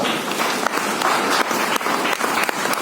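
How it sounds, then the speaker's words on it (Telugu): A church congregation claps their hands together during a worship service, a steady, dense wash of applause that continues loud and unbroken throughout, with no voices rising above it. "చప్పట్లు కొట్టి మనం దేవుని బయపరచాం"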